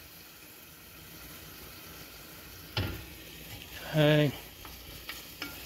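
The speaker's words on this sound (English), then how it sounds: "just spread that garlic all around. Get a little bit of oil down in there." Garlic frying in oil for a French onion and roasted garlic soup sizzles softly while being stirred in a pan, with one clattering knock and a short spoken word partway through.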